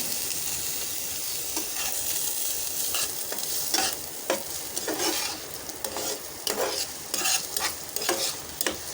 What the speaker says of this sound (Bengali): মূলত বসানো হয়েছে প্যানের মধ্যে দেওয়া হয়েছে তেল, দিয়ে দিচ্ছি পেঁয়াজ